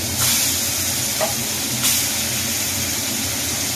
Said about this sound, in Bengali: আর একটা করে মাছ দিয়ে দিলাম ভাজতে